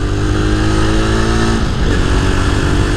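A Jawa 42 Bobber motorcycle is ridden on the road during a mileage test, its engine droning loud and close with a steady rising pull as it accelerates, wind rushing over it and no talking.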